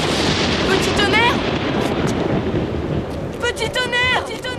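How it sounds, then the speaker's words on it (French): A lightning strike in a cartoon brings loud, rumbling thunder with sharp cracking bursts that fades and then swells again, with a shouting voice heard over it near the start and again at the end. "mais je ne peux rien faire contre la foudre"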